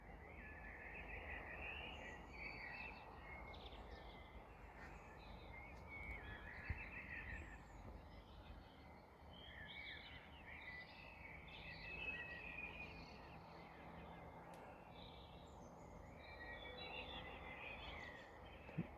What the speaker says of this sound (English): I can hear a lot of blackbirds singing